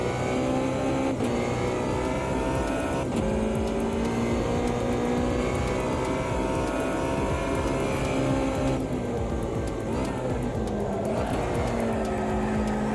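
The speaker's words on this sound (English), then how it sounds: "You can do amazing donuts, by the way." A rallycross car in the racing game Automobilista 2 spins steady donuts, its engine droning loud and continuous with slight revving swells throughout, no voices.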